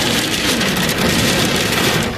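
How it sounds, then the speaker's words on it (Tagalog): Heavy nighttime rain pours in a loud, dense, continuous hiss close by, steady throughout with no pauses. "Pero grabing lakas ng ulan, guys."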